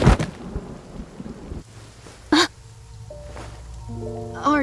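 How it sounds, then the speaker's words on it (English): Thunder and a heavy downpour of rain in the Love and Deepspace video game, with a loud crack of thunder over steady rain, a low rumble and brief game tones near the end. "Here comes the downpour."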